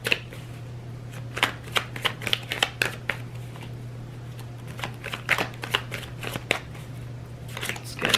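Tarot cards being shuffled and drawn, a steady run of crisp riffling snaps and flicks over a low constant hum, with card slaps spaced through the clip.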